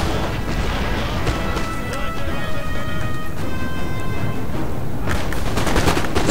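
Musket volleys crackle in a Napoleon Total War battle, a dense continuous rattle of massed gunfire with sharper cracks toward the end, loud and without speech.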